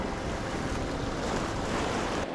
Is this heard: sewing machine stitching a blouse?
no